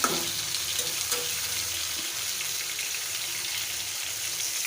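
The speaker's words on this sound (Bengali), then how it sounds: "দেখো সবগুলো মাছ ভাজা হয়ে গেছে এখন উল্টিয়ে দিলাম" Marinated rupchanda (pomfret) fish frying in a pan, giving a steady, fairly quiet sizzle that runs evenly throughout with no voices.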